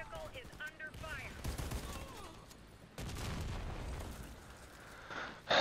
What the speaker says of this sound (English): Our vehicle is under fire.